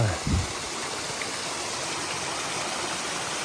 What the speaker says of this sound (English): here's another stream